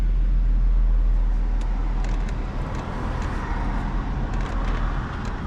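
Cabin ride noise from a 2007 Mercedes C350 cruising at about 41 mph on an ordinary road, a steady low rumble of engine and tire roar with faint ticks and rattles over it.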